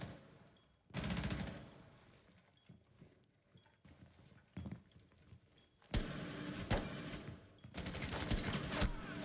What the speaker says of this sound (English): Some gunfire's happening.